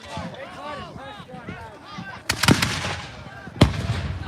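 Musket and cannon fire from a Bunker Hill battle reenactment, two sharp loud blasts with rumbling echoes that break through a crowd of voices and shouting.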